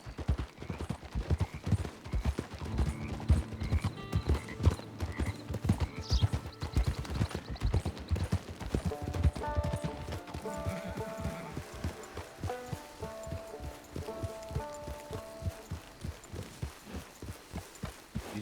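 Horses walking at a steady pace, their hooves clip-clopping in a continuous close rhythm throughout, with music playing underneath.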